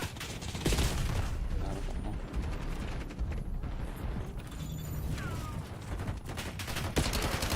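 Sniper rifle shots in a Call of Duty-style multiplayer shooter, cracking amid dense, continuous battlefield gunfire and mechanical clatter, loud and busy throughout with voices faintly in the mix.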